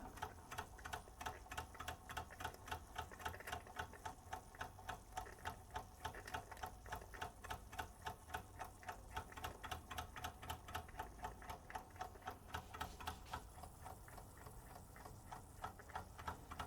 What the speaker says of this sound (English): Very pleasing little engine.